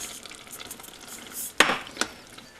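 Sauce ingredients stirred in a pot on a Kamado Joe grill, a soft sizzle with faint scraping and two sharp knocks of the utensil against the pot, no talk.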